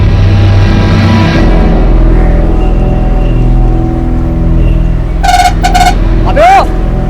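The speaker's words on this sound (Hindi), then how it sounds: "अरे पर हॉर्न मैं बजा रहा हूँ जब।" A vehicle horn sounds from inside a running vehicle near the Kalamboli bus stop in Maharashtra: two short, loud honks in quick succession over a constant rumbling engine drone, followed by a brief rising squeal.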